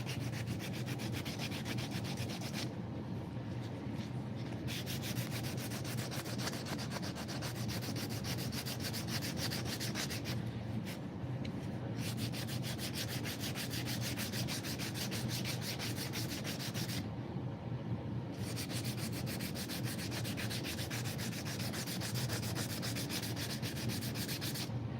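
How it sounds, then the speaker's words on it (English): Steady, continuous hand sanding on a wooden knife handle along the grain, a dry rasping rub with brief pauses between strokes, close up and alone. "Trying to be very directional, intentional in my sanding. I'm staying with the grain."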